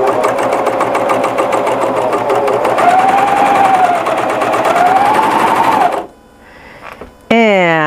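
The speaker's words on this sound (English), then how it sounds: "I'm just going to run this through and make sure it's stitching on this fabric the same as it did on the previous project I did" A serger runs fast through a scrap piece of fabric, a loud, steady mechanical whir with a rapid stitching rhythm for about six seconds before cutting off, followed by quieter handling sounds.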